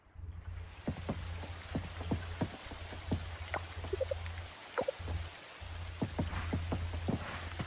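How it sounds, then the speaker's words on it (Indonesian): Steady rain in the farming video game Coral Island, a continuous soft patter with scattered louder drop ticks over a low game hum, with no talking. "Hujan ya."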